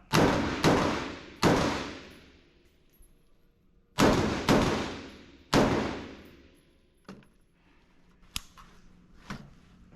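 Sharp, loud gunshots ring out at an Air Force shooting drill at MacDill AB, Florida: two quick shots, a third, then three more with echoing decays, followed by a few fainter, softer reports.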